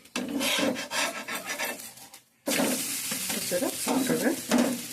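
An omelette fries in oil in a pan with a close, crackling sizzle and scraping stir sounds. The sound stops briefly partway through, then resumes just as strongly.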